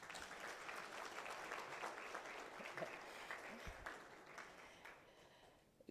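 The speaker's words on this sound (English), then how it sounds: "I think she deserves an applause." Audience applause at a men's conference on positive masculinity, a dense steady wash of clapping that holds for about six seconds at moderate, fairly distant level before tapering off.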